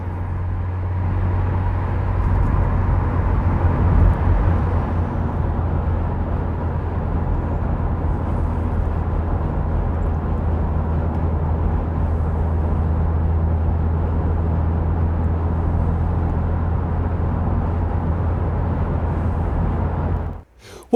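A Rover 600 turbo car cruises along with a steady, continuous low engine and road drone from inside the cabin for about twenty seconds, ending in a brief rustle.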